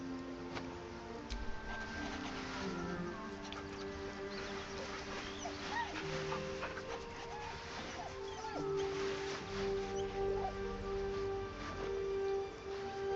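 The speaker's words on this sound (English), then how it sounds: "I want to talk to the puppy." Puppy whimpering in the Baldur's Gate 3 video game, a series of soft, high whines and yips repeating over a steady bed of game music and ambience, moderately loud throughout.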